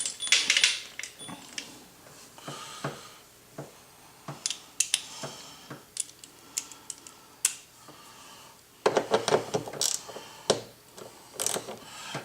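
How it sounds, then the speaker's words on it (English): Rapid mechanical clicking of a ratchet backing out a 10mm bolt from the inner door of a 2015-or-later Ford Mustang, close and crisp in irregular bursts with brief pauses, no talking. "So now we've got a 10mm bolt we have to take out."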